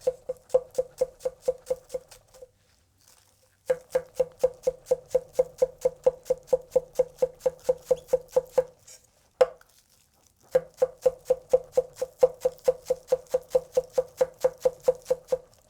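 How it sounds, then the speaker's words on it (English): A chef's knife chops green onions on a board in fast, even strokes, crisp rhythmic taps in three runs separated by brief pauses, close and clear. "let's cut up some green onions"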